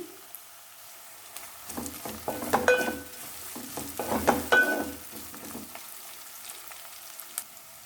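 Onions and green chilies with a little salt sizzle in a pan for a ridge gourd and dried prawn curry, a steady crackling fry with stirring scrapes that starts after a quiet moment and fades out near the end.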